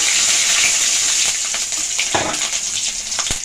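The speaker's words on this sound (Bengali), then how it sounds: "কালো জিরে ফোড়ন দিলাম আঁচটা কিন্তু আমি কমিয়ে রেখেছি নাহলে ফোড়নটা পুড়ে যাবে আর কাঁচা লঙ্কা ফোড়ন দিলাম" Nigella seeds and green chilli tempering in hot oil over low heat, a steady close bright sizzle with occasional spits and pops.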